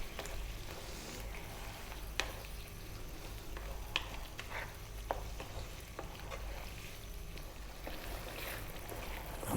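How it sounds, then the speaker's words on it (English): Cream being stirred into tomatoes in a pan for a creamy garlic vegetable pasta sauce, a steady close sizzle and simmer with scattered spoon scrapes and clicks throughout, no talking. "stirring our cream into our tomatoes"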